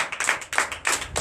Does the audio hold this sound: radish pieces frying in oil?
no